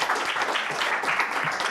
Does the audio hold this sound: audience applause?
yes